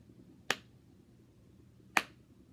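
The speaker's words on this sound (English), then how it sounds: "I clapped half notes, right?" Two sharp, loud hand claps about one and a half seconds apart, each a crisp isolated crack, played as half notes in a music dictation exercise against a quiet room.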